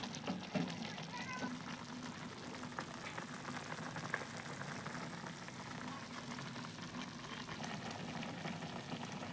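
Chinese-style street Maggi masala noodles bubble and sizzle in a pan as they are stirred, a quiet, continuous hiss of boiling and frying with no clear pauses.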